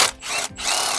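A ratchet or power tool undoes the 12mm bolts on the gear cable bracket of a Kia Sportage during a clutch replacement, two loud close whirring bursts split by short gaps.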